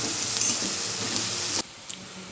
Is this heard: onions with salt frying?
yes